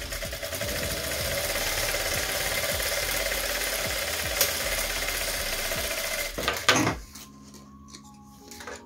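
A sewing machine stitches a quilted flying geese basket at a steady, fast mechanical whir for about six seconds, then stops abruptly, leaving a quiet room hum.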